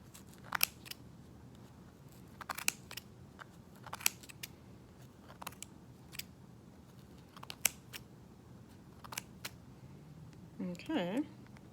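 Scissors snip repeatedly through many thick layers of yarn on a pom pom, sharp close crunching cuts in irregular bursts, with a voice speaking briefly near the end.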